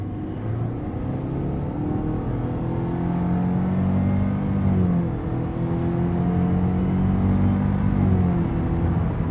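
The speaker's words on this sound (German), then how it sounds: "kann ich also einmal halten und beschleunige jetzt mal mit Vollgas los" A 2017 Subaru Levorg 1.6GT Sport with a Lineartronic CVT pulls away at full throttle from a stop, heard from inside. Its engine drones at a steady, slowly rising pitch over road rumble, with no voices.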